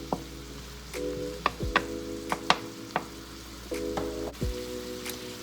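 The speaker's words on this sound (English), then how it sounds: "I am going to stir that into the veggies with the beef paste flavor." Garlic being stirred into veggies frying with beef paste in a pan for pepper steak and noodles, a steady sizzle broken by sharp scrapes and clicks of the utensil against the pan.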